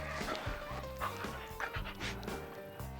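Dogs panting close by outdoors at a hostel building site, with quick rhythmic breaths and a few small yips over steady background noise, fairly faint.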